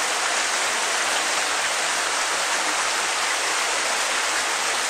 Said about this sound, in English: So now we're at the creek underneath the bridge, and what are we looking at?